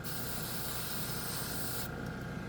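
A Dspiae no-wash airbrush releases a fine mist in a steady, close hiss that holds evenly, then cuts off sharply near the end with a brief quieter tail.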